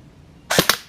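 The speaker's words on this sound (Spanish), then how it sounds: "Vamos a hacer una serie de 10 disparos y a ver en cuánto lo agrupa." A Krytac Kriss Vector AEG airsoft gun firing: a single sharp, close crack with a fast mechanical double snap, alone and clear.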